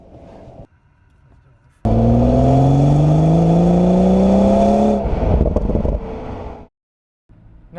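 A BMW with a 6-speed manual pulls away and revs hard through rising gears, the engine note climbing loud and close in long sweeps before easing off.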